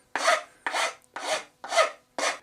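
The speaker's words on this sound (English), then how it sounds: "I now just have to clean the glue off the split tenon" Glue is scraped off the split tenon of a wooden chair in five evenly spaced, short rasping strokes, close and distinct with brief silences between.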